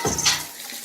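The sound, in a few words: water running in the shower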